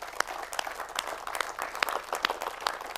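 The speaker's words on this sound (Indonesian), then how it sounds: "Tepuk tangan kawan-kawan sekalian." A seminar audience applauds steadily, many hands clapping in a dense, continuous patter that stays even throughout.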